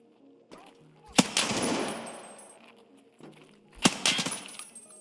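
Enemy gunfire in the Icebreaker mission of a shooter video game: two sharp bursts, each a loud crack followed by a rattling, decaying spray of shots, separated by a short gap.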